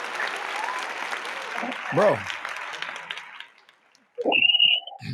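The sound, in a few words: round of applause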